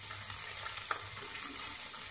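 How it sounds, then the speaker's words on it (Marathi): Chopped spring onions sauté in a pan with chillies, curry leaves and asafoetida for pitla, giving a steady, close sizzle with a faint stir scrape partway through. "कांदापात व्यवस्थित परतून घ्यायचे।"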